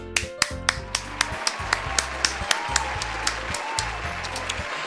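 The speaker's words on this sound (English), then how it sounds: "The four of us applaud." Sparse rhythmic clapping from a few people in Doki Doki Literature Club after a poem recitation, sharp claps over a looping synthetic backing tone, steady for several seconds.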